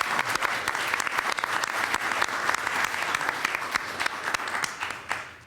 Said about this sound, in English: So why don't you give yourselves a round of applause for everybody.